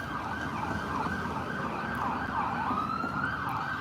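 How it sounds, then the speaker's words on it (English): Emergency vehicle sirens wail through downtown Clearwater near Scientology headquarters, their pitch rising and falling continuously. The sweep repeats over steady traffic rumble and carries loud and unbroken, with no talking. "A lot of sirens."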